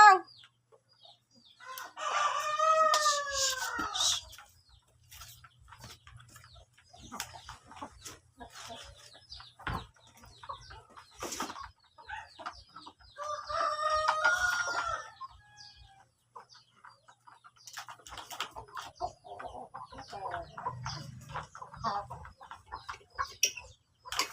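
Breeder chickens on a farm cluck and crow close by, with a couple of long rooster crows separated by softer clucks and scattered scratching noises, no talking.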